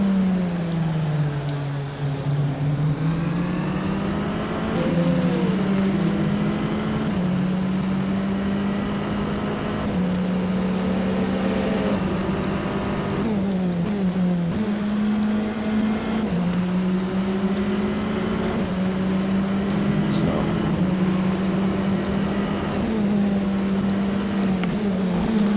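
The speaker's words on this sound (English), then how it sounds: "This F3 car's got kind of a bit of a throaty sound to its engine." Tatuus F3 race car engine in a sim racing game, a loud, throaty tone rising and dropping repeatedly through gear shifts and revving, continuous across the whole stretch with no voices.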